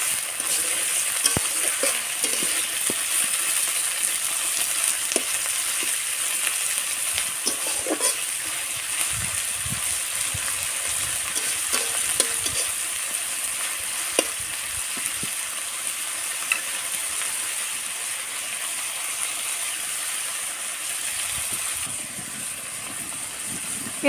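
Frying in a pan with intermittent stirring and scraping, a steady broadband sizzle running unbroken and close throughout, with a few louder clatters of the spoon partway through.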